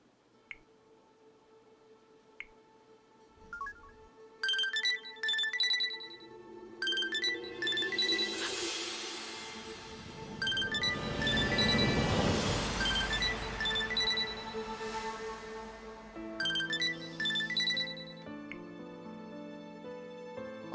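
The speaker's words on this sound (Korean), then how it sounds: "왜 아줌마 폰에 저장된 내 딸을 누르니 그쪽 핸드폰이 울린 건지" A mobile phone ringtone plays a bright, chiming melody in several bursts over about twenty seconds. Quieter rustling and a swelling louder passage come between the bursts.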